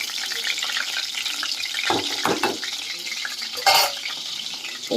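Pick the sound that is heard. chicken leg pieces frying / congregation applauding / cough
chicken leg pieces frying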